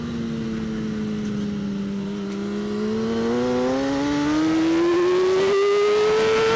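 A superbike engine at a pro superbike race rises steadily in pitch as the throttle is rolled on from near closed to full, a loud onboard drone climbing without gear changes.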